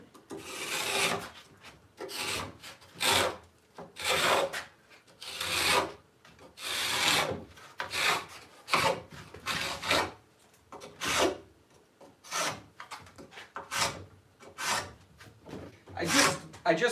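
A sawzall chisel bit is worked by hand against wood, giving about a dozen rhythmic rasping, scraping strokes, each a short burst separated by brief pauses, at moderate loudness.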